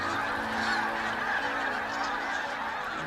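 A dense flock of geese honks continuously, many overlapping calls forming a steady loud chorus, arriving at the start of the Arctic summer and waiting for the thaw.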